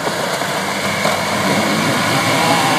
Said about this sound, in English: Still is the stock exhaust running out the back.